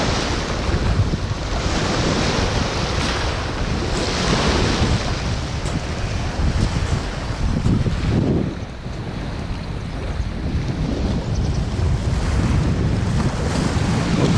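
Sea waves wash continuously onto a rocky shore at dawn after a high tide, a loud, steady roar of surf with heavy wind buffeting the microphone and no voices.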